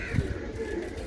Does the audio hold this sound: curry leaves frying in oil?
no